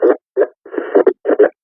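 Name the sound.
radio traffic received on Motorola XTL5000 desktop radio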